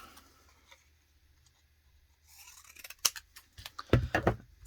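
Scissors snip through cardstock for note cards after a near-silent start. A cluster of crisp, close cuts comes in the last two seconds, with no talking.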